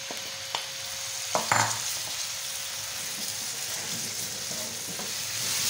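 Chicken fries in hot cooking oil over high heat for chicken shashlik, a loud, steady sizzle with a couple of sharp spatula knocks near the start and no talking.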